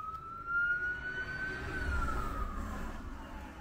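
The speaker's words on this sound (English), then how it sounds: "Uh-oh, here comes the sirens, guys." An ambulance siren in a small community rises in a single wailing tone as the vehicle approaches and passes, swelling louder and then fading, over a low rumble of the passing vehicle.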